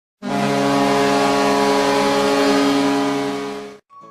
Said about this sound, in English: It is a loud, ugly horn